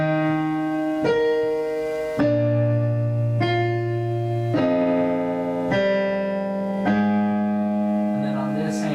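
Left-hand piano part of the Shin Gojira theme, with about eight low sustained notes struck one by one at a steady, unhurried pace, each ringing into the next, close and clear.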